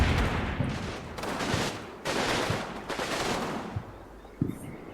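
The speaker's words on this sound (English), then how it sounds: "engage in probably one of the most intense gunfights I've ever seen in combat mission" A fierce battle in the war game Combat Mission: dense bursts of rifle and machine-gun fire overlap in rolling waves, with a few sharper nearby cracks and distant booms. No voices.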